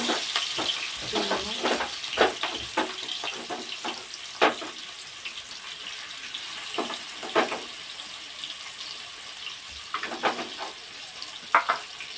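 Fish frying in hot oil on a home stove, a soft continuous sizzle under a run of irregular scraping and clinking clicks from a spatula or utensils.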